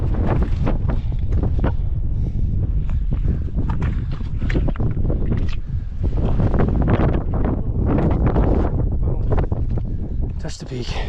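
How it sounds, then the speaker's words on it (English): Strong wind buffets the microphone on the summit of Carrauntoohill, Ireland's highest peak, a loud, constant roaring gust throughout, with a person talking under it. "I'm gonna go stand over here for a second, block the wind"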